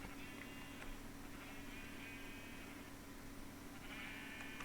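Sheep bleating in Minecraft: a few faint, harmonic bleats rise now and then over a constant hum and background hiss.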